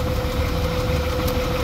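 A Hyster forklift's 4.3 Vortec engine, hot after being freed from a seized condition, runs at a steady loud drone with a constant tonal hum and rough rumbling underneath, close by and without talk.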